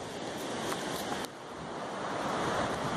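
Pacific Ocean surf crashes near the north jetty, a continuous broad wash of waves mixed with wind noise on the microphone, steady and fairly loud throughout with a brief dip midway.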